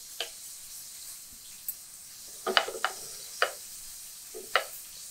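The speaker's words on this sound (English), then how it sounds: "Look at this sizzling piece of prosciutto" Soft hiss with sharp sporadic pops and crackles as prosciutto sizzles and spits in a hot pan, fairly quiet and close.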